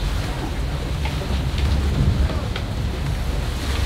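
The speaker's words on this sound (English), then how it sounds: "The wind was supposed to be 10 knots. It's been going up to 25." Strong gusting wind, rising to about 25 knots, roars steadily around a sailboat beating upwind on open water, with low rumbling buffeting against the microphone throughout and faint water sounds beneath.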